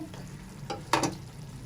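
Spices and tomatoes for a beef yakhni pulao fry in a pan under a low, quiet sizzle, with two short spoon scrapes near the middle, close by and without voices.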